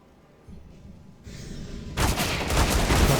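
Gunfire in Counter-Strike: Global Offensive during a PGL Major NA open qualifier match, a dense burst of shots that swells from quieter action into a loud, sustained fusillade with no talk over it.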